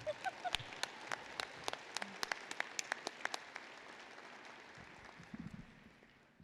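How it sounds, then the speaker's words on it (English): Graduates and guests at a university commencement ceremony applaud as bachelor's degrees are conferred, a broad, steady wash of clapping from a large crowd heard faint and distant in a big hall, sharper individual claps popping out. "Applause."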